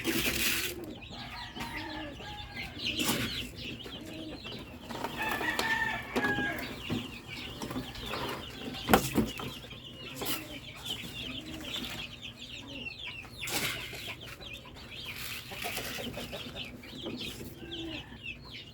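Rhode Island Red chickens cluck and murmur around feeding time, a busy, steady flock chatter at moderate distance with occasional louder calls, faint and continuous.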